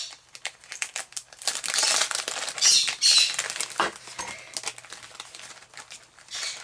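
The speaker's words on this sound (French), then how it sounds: "Là, vous entendez mes tout petits perroquets qui sont trop contents de nous retrouver depuis hier soir." Small pet parrots in a home flutter and scuffle, giving dense crinkly rustles of flapping wings with faint chirps mixed in, close and busy for several seconds, then thinning out.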